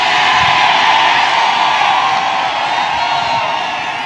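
A large crowd at a Trump rally in Pennsylvania cheers continuously, a dense, loud roar of many voices sustained evenly throughout with no distinct speech standing out.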